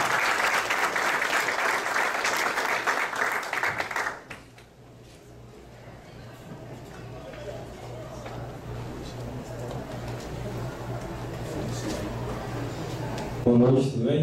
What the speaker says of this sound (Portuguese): Salve de palmas, Felipe Sanches